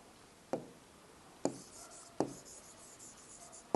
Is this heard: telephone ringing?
no